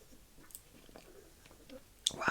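Someone chews a Ritter Sport salty chocolate up close, with soft, quiet mouth sounds and faint whispery breaths, then a louder crunchy bite at the end.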